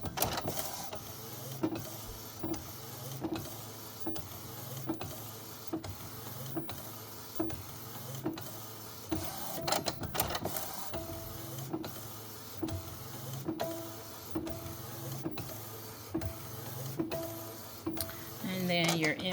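A DTF printer runs a print job, its print head carriage sweeping back and forth in a steady rhythmic mechanical whir with regular clicks, continuous and close, with a brief louder rattle midway.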